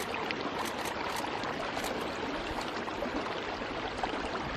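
Continuous rushing of a river in Iceland, dense and fairly loud throughout, with faint higher splashes and no talking.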